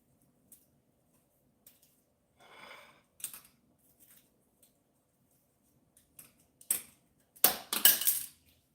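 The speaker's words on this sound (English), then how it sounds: "Get a pair of scissors, and I cut all the dead roots." Scissors trim dead roots from an orchid, giving a handful of sparse, quiet snips and clicks that build into a quick cluster of crisp cuts near the end, with no talking.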